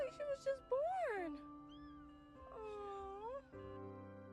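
A small newborn kitten found living in a parking lot meows repeatedly with rising and falling cries, close and fairly loud, over a steady background hum.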